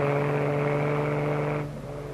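Jaguar XKE (E-Type) sports car engine holding a steady, loud drone while cornering through turns, then easing off and dropping in pitch near the end.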